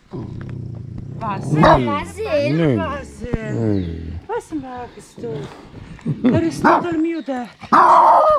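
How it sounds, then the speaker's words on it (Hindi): A dog in Eifel National Park barks and growls angrily in rough, rising bursts, loud and close, with a person talking in between. "देख सकते हैं कि कुत्ते को भी गुस्सा आ रहा है"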